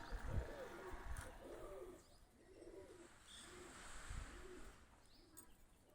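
Pigeons coo in soft, repeated, rhythmic calls nearby while being fed almonds, with faint voices and light background noise.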